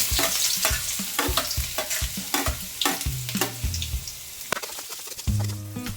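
Ginger and onion hitting hot oil for chicken curry, a bright crackling sizzle under rapid rhythmic scraping and clanking of a spatula against the pan, with a few louder knocks near the end.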